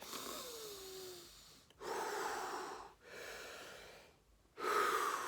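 Slow, deep breaths close to the microphone, three long airy exhalations in a steady rhythm with pauses between, alone and fairly quiet.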